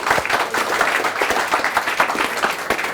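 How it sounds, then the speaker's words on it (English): An audience at a multi-day sales mastermind seminar breaks into loud, full applause. Many individual claps stand out within the continuous crowd clapping, which stays strong throughout. "Give a round of applause for that."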